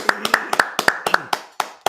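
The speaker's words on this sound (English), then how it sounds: "Clap that up." Congregation clapping at a Sabbath church service: a dozen or so sharp, close hand claps in an uneven rhythm over two seconds, with a faint voice underneath.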